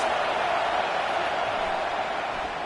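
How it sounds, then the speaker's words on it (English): A football stadium crowd roars steadily to back the home defense, a dense, loud wash of cheering and noise with no break. "Listen to this crowd just shaking the girders of this place, trying to help their defense."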